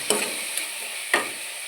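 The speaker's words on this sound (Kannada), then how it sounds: "ಅದನ್ನು ಫ್ರೈ ಮಾಡಬೇಕು ಚೆಂದ, ಒಳ್ಳೆ ಆಯಿಲಲ್ಲಿ" Chopped onion frying in coconut oil, a soft steady sizzle punctuated by two or three brief stirring clicks against the pan, close and without talk.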